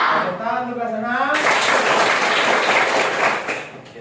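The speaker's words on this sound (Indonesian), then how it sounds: "Tepuk tangan untuk senang." Students in a classroom applauding after chanting, brief voiced shouting at first, then a dense burst of hand clapping from a group, close and loud, fading near the end.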